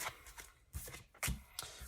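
Cards from a Modern Spellcaster's Tarot deck being shuffled by hand, four quick riffling bursts in a row, close and fairly quiet, with no voice.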